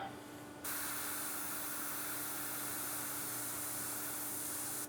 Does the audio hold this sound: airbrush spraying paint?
yes